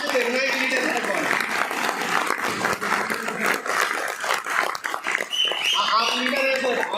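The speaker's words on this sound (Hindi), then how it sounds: "ये तालियां और जोरदार होनी चाहिए" An audience applauds a leader with continuous, dense clapping that swells and stays loud throughout, while someone speaks over it.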